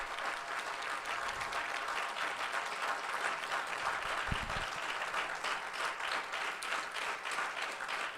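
Sustained, full-bodied applause from an audience at a 40th anniversary celebration, dense and steady throughout without pause, the clapping filling the room evenly from start to finish.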